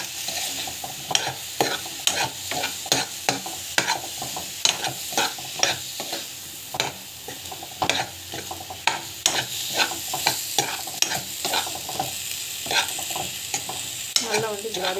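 Raw banana pieces being sautéed with chili powder in a pan, with a steady run of close stirring scrapes and clicks over a soft sizzle that continues for the whole stretch.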